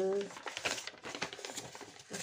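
Paper crinkles and crumples in short bursts close by while someone talks over it.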